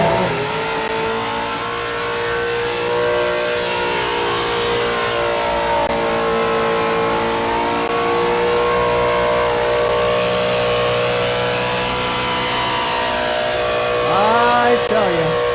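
A car doing a burnout at a Summernats street-machine event, its engine holding a loud sustained rev with shifting pitch for the whole stretch and a sharp rise near the end, amid crowd noise.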